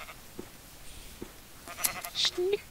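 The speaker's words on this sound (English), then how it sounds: "There's a sheep that hasn't been sheared." Minecraft sheep bleating in a short burst near the end, a couple of brief bleats over faint background game noise, preceded by scattered soft clicks.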